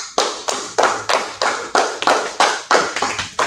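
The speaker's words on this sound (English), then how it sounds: "everybody clap it up" A group of people clap together in a steady rhythm of about ten sharp, loud claps, closely miked with no talk over them.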